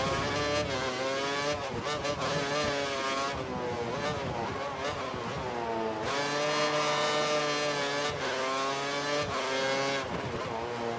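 Formula 1 racing cars roar continuously in the 2013 video game at Circuit de Catalunya, engines whining through rising and falling gear shifts, loud and steady throughout with no talk.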